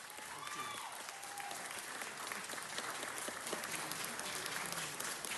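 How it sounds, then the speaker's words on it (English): Applause from the gathered audience at a Los Angeles City Council presentation honoring a meal-serving mission's 100th anniversary, a steady, fairly faint wash of clapping lasting several seconds without letup. "let's give them a big round of applause congratulating them for their work"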